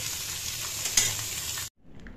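Fish frying in a pan gives a steady, close sizzle with a faint stirring texture for under two seconds, then cuts off abruptly to near silence.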